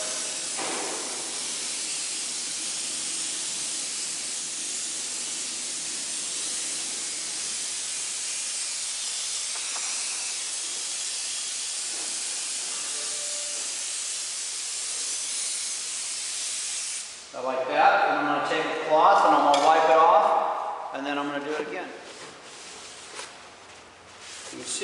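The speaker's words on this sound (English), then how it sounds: "So you squirt it, and then I'm going to spray red over it." Red spray paint hisses from an aerosol can in one long, steady burst lasting most of the stretch, close and fairly loud, before louder clattering handling noises take over near the end.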